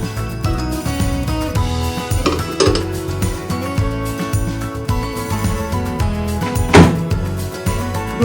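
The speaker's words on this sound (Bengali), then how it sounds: "মাইক্রো ওভেনের মধ্যে আমি দিয়ে দেব" A tray of sliced chicken is set into a microwave oven with clinks, clatters and a door thunk, over a steady background of music.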